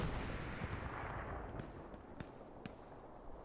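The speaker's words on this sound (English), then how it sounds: "The enemy is using grenades." Grenade explosions in the World War II shooter Hell Let Loose, several sharp distant blasts scattered over a rumbling battlefield backdrop, each a brief crack standing out from the steady low din.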